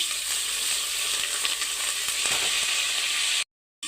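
Stuffed bitter gourds with curry leaves frying in a pan give off a steady, close sizzle that fills the clip, with a short break near the end.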